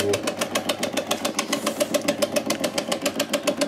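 The broken gearbox of an ice cream machine making pineapple ice cream grinds and knocks in a fast, regular pulsing rhythm, loud and close, repeating steadily throughout.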